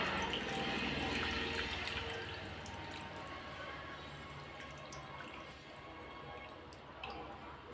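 Water splashes and pours steadily into a pot of fish curry, a broad rushing sound that eases slightly after a couple of seconds.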